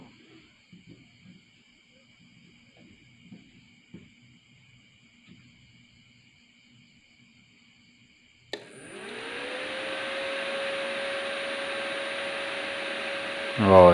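An electric welding machine, repaired after being completely dead, switches on with a sudden click, then gives a steady electrical hum with a whine that rises and levels off. Before it starts there are only faint handling noises.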